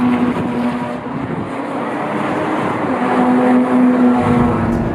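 Engine of a Jaguar F-Type R V8 AWD coupe on the Nürburgring racetrack, a steady loud drone with a sustained tone rising slightly near the end, no talk.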